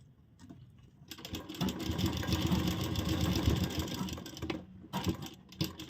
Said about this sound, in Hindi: तो यहाँ पर भी हमने सिलाई लगाई है।